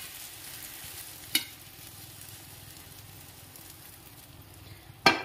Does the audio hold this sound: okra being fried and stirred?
yes